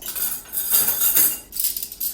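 Silverware and pans clink and rattle as they are unloaded from a vintage 1977 Hobart KitchenAid Superba portable dishwasher, a run of close, bright metallic clatters with a short pause midway.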